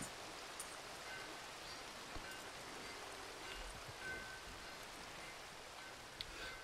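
Soft, steady rain patters continuously at low volume in Red Dead Redemption 2, with a few scattered drip-like ticks and no voices.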